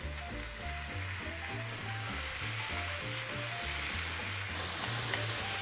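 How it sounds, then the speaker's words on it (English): Meat sears in two oiled pans on a hot stove, a loud, continuous sizzle and crackle that holds steady throughout with no talking, while a rhythmic music bed plays underneath. "Just get some oil in both pans, dance around, and we're gonna sear these mother truckers."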